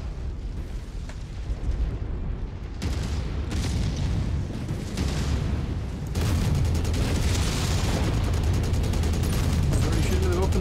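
SRM6 missile salvos fire and slam into targets in MechWarrior 5 combat, a dense run of booming bursts and rumbling explosions that grows louder and more continuous toward the end.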